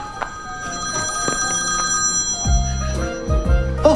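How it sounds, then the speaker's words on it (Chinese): A mobile phone rings indoors with a repeating electronic ringtone in a steady melodic pattern, fairly quiet and clear, with brief background noises but no speech. "谁电话响？ 好像是我的。"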